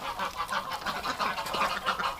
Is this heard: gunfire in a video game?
no